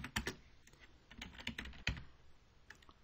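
Quick typing on a computer keyboard, a short burst of light, irregular key clicks close by and fairly quiet, with no talking.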